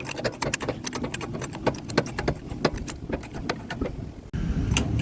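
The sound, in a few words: cranking a manual jack to lift a big rig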